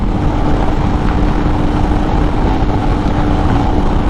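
A 2022 Royal Enfield Himalayan BS6 motorcycle runs flat out at about 130 km/h, its steady engine drone buried under loud, constant wind roar with no break.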